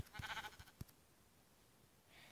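Sheep bleating in the Minecraft video game, a short burst of repeated game bleats near the start followed by quieter ambient game sound.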